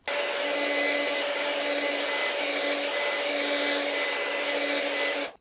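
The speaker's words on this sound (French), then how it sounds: "Donc vous allez venir prendre votre sèche-cheveux." A hair dryer on the cold setting blows steadily while drying wig glue on a lace wig, a close, loud, even whir with a steady hum that runs alone for about five seconds and cuts off at the end.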